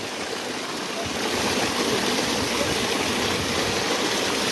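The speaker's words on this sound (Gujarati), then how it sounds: "જો આ મોટર ચાલુ કરી છે, પાણી જવા દઈએ હવે પડામાં. જો પાણી આમ જાહે." A farm irrigation motor pump runs and water gushes steadily into a field, a constant broadband rush that swells louder after the first second.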